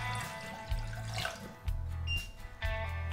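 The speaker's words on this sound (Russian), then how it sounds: "Для начала вскипячу воды." Tap water running into a pot or sink in a home kitchen before boiling, a moderate gushing stream that swells and eases in uneven bursts, alone without talk.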